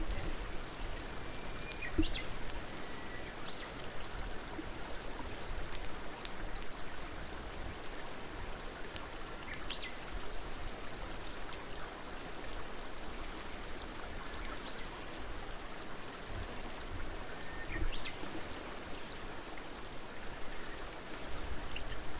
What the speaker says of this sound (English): It's raining? No way.